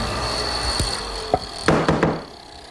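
A 3/8-inch mortising chisel is struck into wood while cutting an angled 5-degree mortise for a library ladder, giving a few sharp, close knocks in an irregular rhythm.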